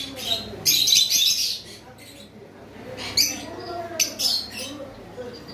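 Conure parrots in cages at a bird farm give bright, shrill chirps in several short bursts, loud at first and then in scattered calls, with a faint human voice in the background.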